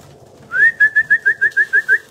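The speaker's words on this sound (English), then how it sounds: "see these birds here, look, they're all waiting for the hemp, right?" A pigeon coos in a quick series of about nine short, evenly spaced whistling notes at a hemp seed feeding, close and clear, with faint lower sounds beneath.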